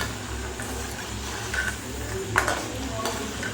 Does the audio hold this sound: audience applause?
no